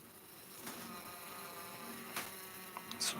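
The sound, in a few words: bumblebees buzzing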